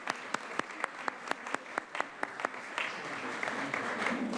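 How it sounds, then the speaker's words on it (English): An audience at a county volunteer recognition ceremony applauds its volunteer coordinators, with a few sharp individual claps near the microphone at first, then giving way to a fuller, steady round of clapping. "Let's give our volunteer coordinators another round of applause."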